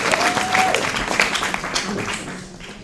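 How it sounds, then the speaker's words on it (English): Delegates at the opening ceremony of a Pan African dialogue on building socialism give themselves a round of applause, dense clapping from a large crowd that swells and then tapers off, with a voice faintly over it. "we must give ourselves a big round of applause"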